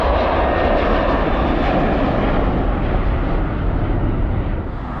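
A Jet2 airliner roars over near Leeds Bradford Airport, a loud, steady, broadband engine rumble that holds at close range throughout and only begins to ease slightly at the end.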